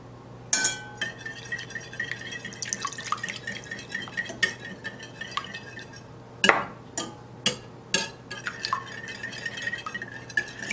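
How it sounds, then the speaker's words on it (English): Eggs being whisked in a bowl for a gluten-free, sugar-free pumpkin pie, giving a soft stirring and scraping with light clinks of the whisk against the bowl, plus several sharper clinks, mostly quiet and alone without talk. "So Ocean, I want you to put 4 eggs into the bowl and whisk them up really well"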